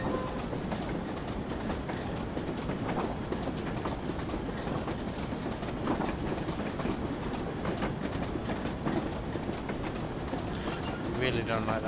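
A Class 25 diesel locomotive running on rails on the Weardale and Teesdale line, with steady rumbling wheel noise and rhythmic clickety-clack over rail joints, heard close from on board the train for the whole stretch.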